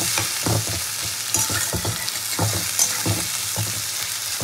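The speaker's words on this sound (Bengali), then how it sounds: "টমেটো পেঁয়াজটা খুব ভালো করে তেলে ভেজে নেব।" Tomato and onion frying in hot oil, a steady close sizzle broken by repeated stirring scrapes and clatters from a spoon in the pan, with no talk.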